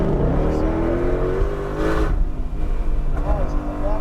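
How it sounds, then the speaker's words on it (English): Shelby GT500 on the New Hampshire Motor Speedway track, its engine droning steadily and loud inside the car, with brief tire or wind noise, while an instructor talks over it. "Lift off the gas for me, and one car is going to come around us here."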